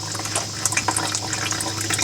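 Manual transmission fluid draining out of the fill hole of a 2006 Ford Ranger, a steady close trickle and splash of liquid that keeps running without a break and without talk.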